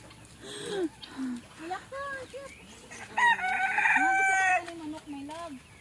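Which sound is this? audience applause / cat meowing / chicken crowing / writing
chicken crowing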